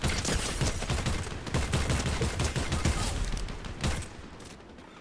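Rapid gunfire from the battle royale video game Fortnite, a dense stream of loud shots in quick bursts for most of the stretch before dropping off near the end, with no talking over it.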